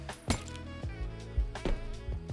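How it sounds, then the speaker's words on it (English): Piggy banks smash and coins clink in a piggy bank incremental video game, several sharp glassy clinks and shattering hits scattered irregularly over a soft background tone. "No point in smashing the banks if I don't pick the coins up."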